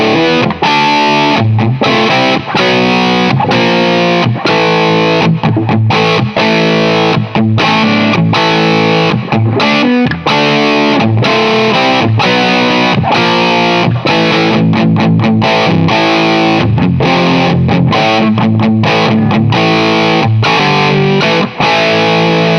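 Victory DP40 tube guitar amplifier driven into heavy overdrive by a flat boost pedal, loud distorted electric guitar riffing with choppy, rhythmic chords and brief stops, playing alone throughout.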